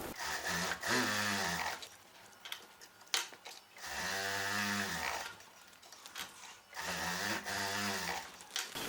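A sewing machine runs in three long bursts as it stitches a folded churidar bottom hem, a close, loud, buzzing motor whine with brief pauses and handling clicks between runs.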